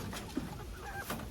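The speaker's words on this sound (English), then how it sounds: "my chickens are following me around because they stalk me whenever I come outside, and they keep pecking at the hay" Backyard chickens pecking at hay cluck softly and briefly, a faint, close, low murmur of a couple of short clucks over quiet background noise.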